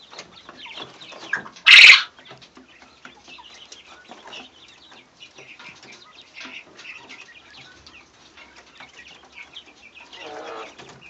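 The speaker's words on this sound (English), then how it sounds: "So that's quail." Quail in a backyard pen with a sandbox give short chirps and calls through the clip, with one loud burst of squawking or flapping near the start and quieter scratchy activity after it.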